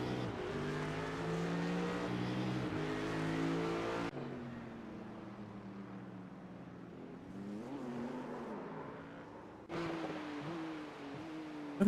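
BMW race cars in the iRacing simulator, engines droning loudly at high revs with tonal whine, then dropping off as they shift and pass, followed by another rising engine pass near the end.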